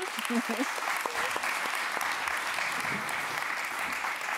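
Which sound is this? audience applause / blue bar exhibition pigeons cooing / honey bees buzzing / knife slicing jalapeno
audience applause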